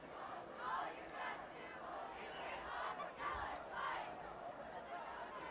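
Football crowd at a high school game between Oxford and Clarkston, a steady broad roar of cheering voices with a few louder swells, moderately distant, no clear speech.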